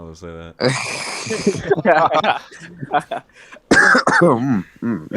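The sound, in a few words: cough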